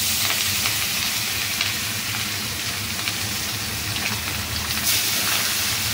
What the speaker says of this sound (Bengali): আর এদিকে চলো মাছগুলো ছাড়া যাক, তেলটা বেশি গরম হয়ে গেছে।